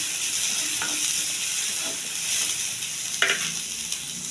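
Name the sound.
chana dal frying in a pan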